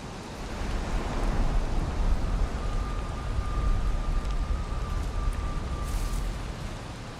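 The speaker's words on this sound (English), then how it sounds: "It's still raining, actually." Steady rain falls outside a wooded island lodge as a soft, even wash of hiss at moderate distance. It runs continuously with no talk and no breaks.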